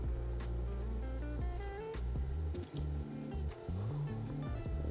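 Soy sauce pours into a marinade of brown sugar and other ingredients for Hawaiian huli huli chicken, a soft glugging liquid trickle with small drips and splashes over a faint steady background hum.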